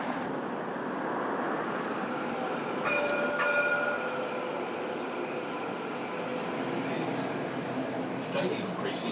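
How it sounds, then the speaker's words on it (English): A Melbourne route 75 tram to Vermont South rumbles past at a city stop in Docklands, a steady wash of rail and traffic noise with a brief tonal squeal partway through. "that's our tram"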